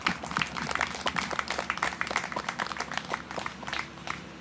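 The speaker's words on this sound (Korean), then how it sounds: "박수 한번 쳐주십시오" Audience at a peace declaration gathering in Gyeongju applauds, a looser, uneven patter of individual claps with distinct sharp hits rather than a dense roar.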